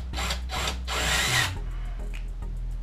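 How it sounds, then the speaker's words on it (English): A power drill drives screws into wood for a camera cabinet: three close, loud whirring bursts, the last one longest, then the motor stops and a low hum remains. "I'm going to go ahead and put some screws in the back of them to hold them to this thing."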